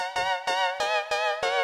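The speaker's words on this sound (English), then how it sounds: "if you want to turn the bright sound off and have the iTende" Yamaha PSR E473 keyboard on the iTende synth patch with the bright layer switched off. Five crisp, evenly spaced notes are played in quick succession, each with a sharp attack and a buzzy sustain, close and alone.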